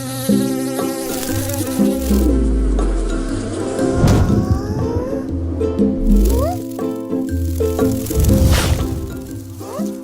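Fruit fly buzzing in a Malay animated cartoon, a loud, close, wavering whine that swoops up and down in pitch over light music and cartoon sound effects.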